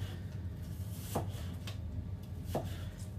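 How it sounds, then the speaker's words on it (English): A knife chopping a red onion on a kitchen board, with a few sharp cuts spaced over a second apart above a steady low background hum. "Just finishing off chopping this onion."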